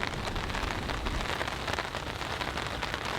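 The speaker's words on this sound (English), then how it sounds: "As you all can hear, it is raining." Steady, dense rain pattering on a camp tarp during an incoming storm, a continuous close hiss of drops with no voices.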